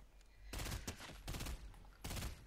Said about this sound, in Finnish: mua ampuu joku